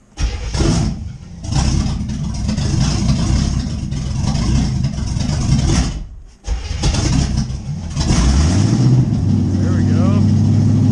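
A C4 Corvette engine fitted with a swapped carburetor cranks and fires on its first start, close and loud, with a brief cutout before it catches, then rises into a steady rumbling idle.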